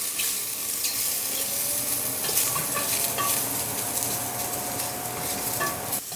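Mushrooms sizzle loudly in a hot pan while a utensil stirs and scrapes through them, a steady frying hiss with occasional knocks against the pan and no talk.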